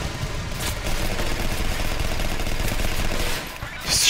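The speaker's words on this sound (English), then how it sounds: "Just shooting wildly." Rapid gunfire in the video game Legendary, a sustained burst of wild shooting with dense, continuous reports layered over a low engine-like rumble, loud and steady throughout.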